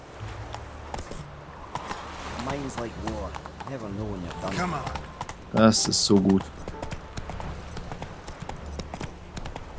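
Horse hooves clip-clop through The Witcher 3 in a quick rhythm under someone talking, with a sharp, louder burst of hoof and impact noise partway through.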